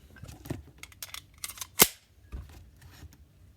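A pistol magazine loaded with a dummy bullet is seated into the gun with one sharp, loud metallic click, surrounded by lighter handling clicks and rattles before and after.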